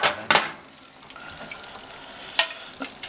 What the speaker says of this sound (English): let that simmer for a little bit